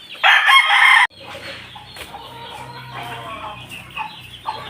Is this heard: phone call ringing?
no